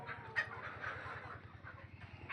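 Fayoumi hens on an egg-laying poultry farm cluck repeatedly and close by, with one sharper squawk early on, over a steady rhythmic low mechanical hum.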